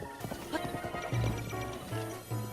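Horse hooves clip-clop at a steady riding pace in Zelda: Breath of the Wild, mixed with game music and a brief whinny, with little talk over it.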